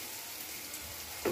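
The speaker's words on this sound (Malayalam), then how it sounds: "വറുത്ത് കോരി വെച്ചിരിക്കുന്ന ചിക്കൻ ലെഗ് പീസ് നമ്മൾ ഈ മസാലയിലോട്ട്" Fried chicken leg pieces sizzle softly in masala in a pan, a faint continuous crackle with a short louder stir at the end.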